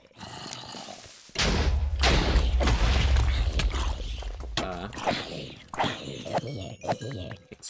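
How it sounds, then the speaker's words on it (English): Booming explosions and heavy thuds in the Nevermore video game, a loud rumbling barrage that starts abruptly and continues with scattered blasts and rattling debris. "Why are things randomly exploding?"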